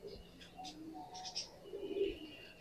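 Soft, low cooing of a Rampuri pigeon, faint and close, a few gentle calls with light chirps mixed in.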